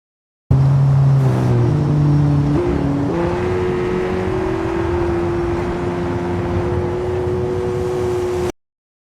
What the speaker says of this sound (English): like a police car driving, this stock footage usually doesn't have audio